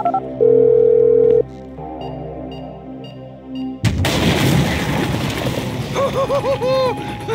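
An in-game phone being dialed in Grand Theft Auto V: one steady electronic tone lasting about a second near the start, then a quiet stretch. Loud broadband game noise, like gunfire or action sounds, takes over for the rest.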